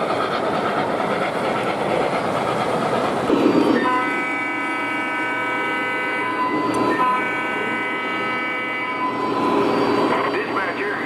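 An O gauge model train rumbles along steadily with a horn-like tone sounding for several seconds, with voices talking faintly over it.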